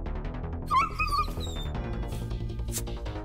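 A dog whimpers with a high, wavering whine, then gives a few short yips and barks, close and fairly loud over continuous background music.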